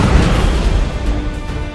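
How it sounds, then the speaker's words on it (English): A deep, rumbling boom with a dull low roar that lingers and slowly tails off. "I could summon explosions at will."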